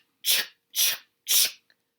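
A voice makes three sharp, breathy bursts in an even rhythm, imitating the chop of an axe into truffula trees, close and fairly loud.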